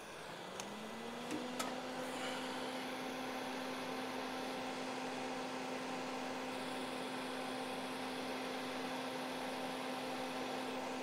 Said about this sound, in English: I'm going to turn on my fume extractor to not breathe all this stuff in